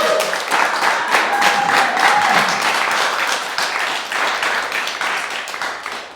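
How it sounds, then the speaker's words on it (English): An audience claps after a children's poetry reading, a steady crowd of hands patting throughout with a faint tone rising briefly in the middle, tapering slightly at the end. "Let's clap"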